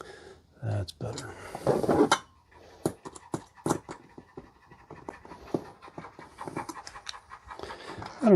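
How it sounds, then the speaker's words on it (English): A large Labrador Retriever pants rapidly and steadily nearby, hot, with occasional clicks and light knocking sounds around it. "That's a very large Labrador Retriever who is hot and panting."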